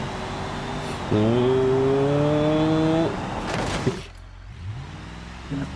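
A Cadillac driving in BeamNG.drive, its engine holding a steady revving drone that rises in pitch, then drops away as the car slows, with a thump and a lighter rumble afterward.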